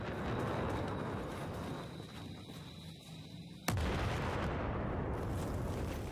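A single sharp sniper rifle shot cracks out in Battlefield 4, cutting through a loud, steady wash of battlefield noise and leaving the dense rumble behind it.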